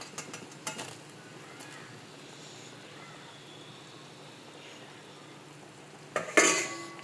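Paneer pieces go into a cooking pot for a dahi paneer dish. Quiet kitchen ambience is broken by a few soft knocks, then a brief clattering burst of utensils against the pot near the end.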